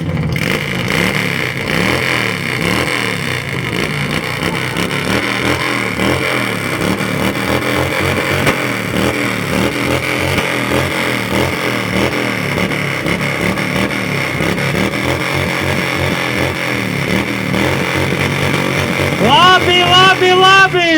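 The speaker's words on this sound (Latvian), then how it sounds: "Pirmais mocis aiziet!" A motorcycle engine revs hard and loud at the Jēkabpils moto festival loudness contest, the pitch surging and wavering in repeated sustained pulls, close and dominant, with voices and crowd noise underneath.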